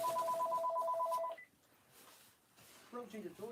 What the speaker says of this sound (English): See, then the phone rings.